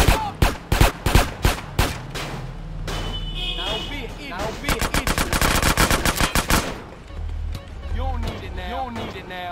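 Rapid bursts of automatic gunfire from an enemy in GTA San Andreas Definitive Edition, sharp repeated shots in clusters with a long rattling volley, over game music and a talking player.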